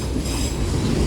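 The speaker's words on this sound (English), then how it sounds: "there's another train up on the bridge, on the other track" A Union Pacific manifest freight train rolls by on a bridge on the far track, a loud continuous rumble and rail roar with a steady wheel rhythm.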